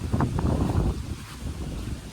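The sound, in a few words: strong wind blowing over a field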